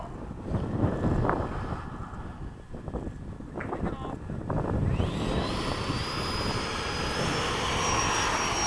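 An FMS 80mm Hawk RC model jet taxis out at a flying field. Its electric ducted fan whines up to a rising, sustained high-pitched whine partway through, over rumbling wind noise and low mumbled voices early on.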